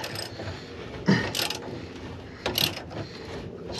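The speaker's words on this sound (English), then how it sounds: "And now we'll wind it up." Ratcheting socket winding up the cable of an underslung spare wheel carrier on a Fiat Ducato, a 21mm socket turning in short mechanical clicks and clunks, with two louder grinding bursts, close and fairly quiet.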